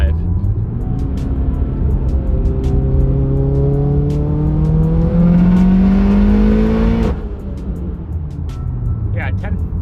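A tuned car engine idling and revving while it is data logged, rising steadily in pitch over several seconds before dropping back to a rough idle, loud and close, with a voice talking over it.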